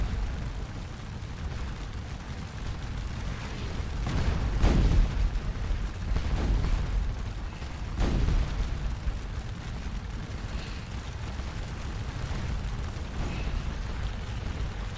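Distant cannon fire from Napoleonic-era artillery in Scourge of War Waterloo, a few deep booms rolling over a steady battlefield rumble, spaced several seconds apart with no voices.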